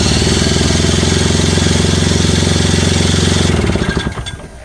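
A Craftsman single-stage snowblower with a 5 hp Tecumseh engine runs loudly and close in a steady, rapid drone, then sputters and dies away near the end.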